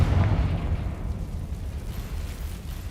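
Fiery Confringo spell blast in the video game Hogwarts Legacy, a loud booming burst at the start that rumbles and fades into a sustained low roar.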